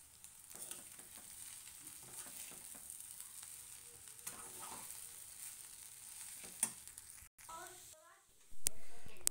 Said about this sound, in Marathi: तर कांदे पोहे छान असे परतून घेतलेले आहेत